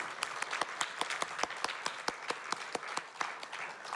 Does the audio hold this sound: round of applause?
yes